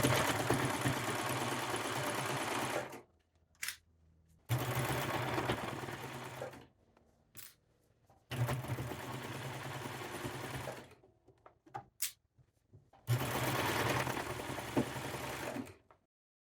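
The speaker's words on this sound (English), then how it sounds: "working with a serger is to always make sure that your work is to the left all the time of your project" A serger stitches fabric for a sewing top in four sustained, steady mechanical whirring runs of a few seconds each, separated by brief pauses, close and fairly loud with no talking.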